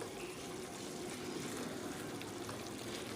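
Chicken curry for a fiery red Bengali dish fried in oil, a steady dense sizzle and hiss heard close and even throughout, without any talking.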